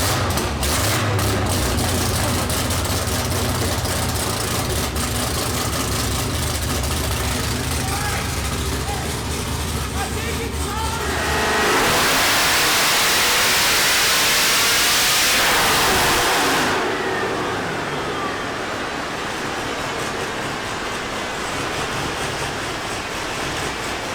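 Kong 2650 twin-turbo LSR 427 ZR1 V8 screams up on a dyno, loud and sustained for about twenty seconds, peaking in a bright roar before backing down and holding at a lower pitch, with people's voices under it.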